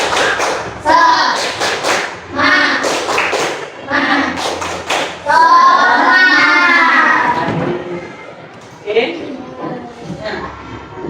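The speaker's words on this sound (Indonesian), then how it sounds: "Yuk, tepuk semangat." Classroom children perform a rhythmic spirit clap in unison, with loud bursts of claps and thumps between stretches of group voices, close and energetic.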